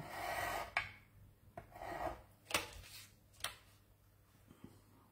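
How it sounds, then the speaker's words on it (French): A utility knife cuts out triangles for a triangular box, giving a few separate rasping strokes close by in otherwise quiet surroundings. "Je le fais au cutter"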